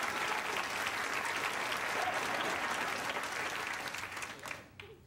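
Audience applause at a lecture, loud and steady clapping from a crowd that carries on evenly for several seconds before tapering off at the end.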